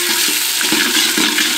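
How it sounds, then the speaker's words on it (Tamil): Onions and green chillies sauté in hot oil in a pan with a dense, loud sizzle, broken by rhythmic scraping stirs, with no one speaking. "200 கிராம் வெங்காயம், 2 பச்சை மிளகாயை சேர்த்து வெங்காயத்தை நல்லா வதக்க ஆரம்பிச்சிடலாம்"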